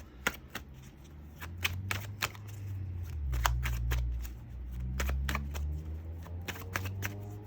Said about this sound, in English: Just want to make sure the cards are really, really mixed up nice and well.